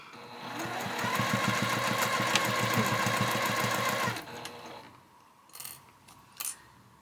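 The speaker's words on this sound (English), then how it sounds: "we're going to lay it down here, and we're going to sew that seam." A sewing machine stitches a seam on a drawstring project bag, a steady close whirring and clatter running for about four seconds before stopping, followed by a couple of soft handling noises.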